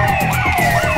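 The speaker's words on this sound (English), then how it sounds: "we've got more police on scene. You can hear the sirens in the background." Police sirens wail in the GTA 5 video game, a loud steady electronic tone with rapid warbling, sounding continuously without any speech.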